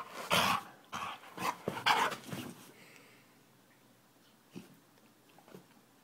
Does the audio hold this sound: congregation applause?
no